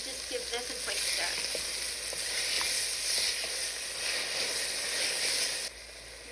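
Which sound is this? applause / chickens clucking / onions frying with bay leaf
onions frying with bay leaf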